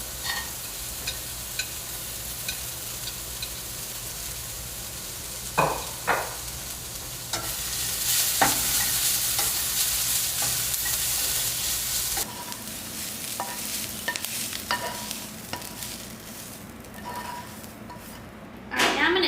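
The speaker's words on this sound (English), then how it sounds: "And then I'm going to add the chopped bacon and cook for about another minute." Chopped bacon and cumin fry in a pan with a soft, steady sizzle, broken by scattered utensil scrapes and clinks against the pan.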